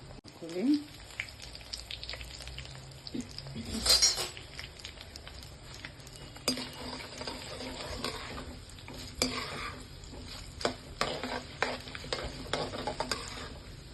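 Urad dal, chana dal and green chillies fry in hot oil in a pan, with a soft steady sizzle, stirring scrapes and occasional clinks of a spoon against metal.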